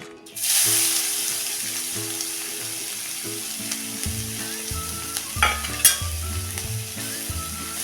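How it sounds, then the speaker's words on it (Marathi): A loud, continuous sizzle of carrots frying in ghee, with a spatula scraping and stirring through the pan in an uneven rhythm. "हे गाजर आपण चांगलं ह्या तुपावर परतून घेऊया"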